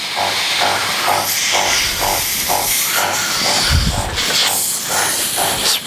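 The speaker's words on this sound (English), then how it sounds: "Sprayer is really cool. It's easy, fast." A Patriot 600 sprayer fogs water-based stain in a continuous loud hiss, with a rhythmic pulsing pump beat running beneath it throughout.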